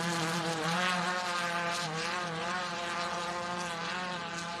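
Single-seater off-road race car with a Racer Engineering chassis at the Don River Dash, its engine giving a steady, high-pitched buzzing drone throughout, loud and continuous with no talk.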